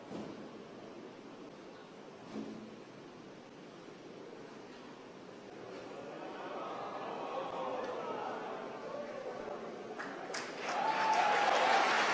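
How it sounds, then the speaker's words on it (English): Applause rises in a SpaceX launch control room after a successful first-stage landing, building from a faint murmur into louder clapping near the end, with some voices mixed in. "You can hear from the applause."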